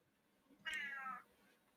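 A single cat gives one clear, short meow lasting about half a second, moderately close against an otherwise quiet room.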